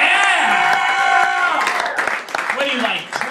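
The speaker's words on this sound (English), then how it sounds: "Can we just get a round of applause for a happy birthday for McLaffy?" An audience cheers, whoops and claps loudly together at a birthday celebration during a live comedy show, a dense burst of crowd noise that tapers off into scattered claps.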